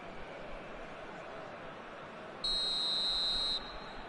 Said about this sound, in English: And the whistle's gone, presumably for offside.